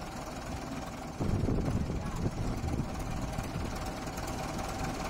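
A tractor engine running during a watermelon seed harvest, a steady rumbling drone that swells louder partway through and keeps chugging evenly at moderate distance.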